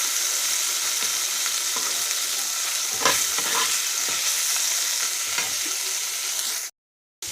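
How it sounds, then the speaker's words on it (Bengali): Paneer cubes frying in very hot oil give a steady, close sizzle, broken by a few clatters of stirring, before a short silence near the end. "আর এই যখন পনিরগুলো ভাজছি, তেলটা বেশি গরম হয়ে গেছে"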